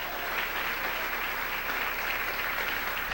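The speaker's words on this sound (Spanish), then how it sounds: "Denle un aplauso al Rey en esta noche" A church congregation applauds during an evening sermon, a dense, steady wash of many hands clapping at once that holds at an even level throughout.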